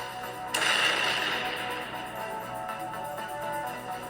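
A sudden sharp blast bursts out at a truck depot fire, followed by a long roaring, crackling rumble that slowly fades.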